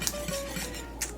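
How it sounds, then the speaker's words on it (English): A whisk stirs butter into orange curd in a pot, giving a few faint metallic clinks and light scraping taps against the pot, sparse and quiet with no talking. "Stir that in there. with the whisk to start."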